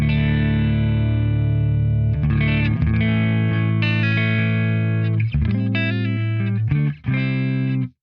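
A clean electric guitar runs through a Quad Cortex clean patch, with a Walrus Audio Fable in the send and return. A low sustained note rings first, then chords and single notes follow, ringing out clearly before cutting off near the end.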